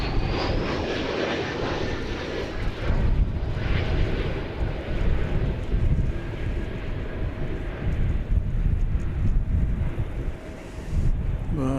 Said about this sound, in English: here we go with this 3-year-old 787-8 Dreamliner off to Haneda Airport